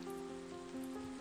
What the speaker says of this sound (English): Rain is pouring down, surrounded by the sound of the beating rain.